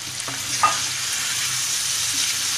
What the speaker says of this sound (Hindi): अब इसमें हम 10 कतरे पानी भी ऐड कर रहे हैं।